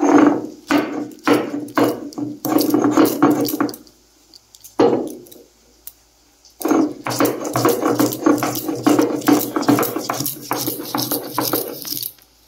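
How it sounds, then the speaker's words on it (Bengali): Cashews and spices are ground by hand on a stone in bursts of rhythmic scraping and thudding, with a pause in the middle before the grinding resumes, close and fairly loud. "এখানে আমি কাজু বাদামটা বেটে নেব।"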